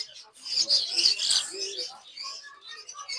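Creamino lovebirds at a bird seller's shop chirp in quick, bright bursts, close by and overlapping, then thin out into scattered tweets.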